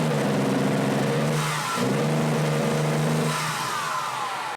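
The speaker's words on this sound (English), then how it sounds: "This is what it sounds like when the exhaust is hooked up and the O2 sensor is hooked back up." Car engine with a misfire running steadily, exhaust reconnected and O2 sensor plugged back in, giving a loud, continuous rumbling drone close by with a slight rise and fall in pitch.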